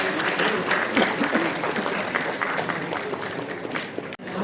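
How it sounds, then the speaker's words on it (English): A hall audience at the BRICS-CCI Annual Recognition Awards claps steadily and loudly to welcome Rajashri Birla and the panelists back, dense sustained applause with crowd murmur throughout. "We request all to kindly welcome with a huge round of applause Srimati Rajashri Birla and our panelists back to the hall"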